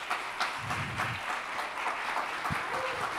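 An audience at a PHP developer community summit applauds after a conference talk, with steady crowd clapping at moderate loudness and a few brief low thuds and murmurs mixed in.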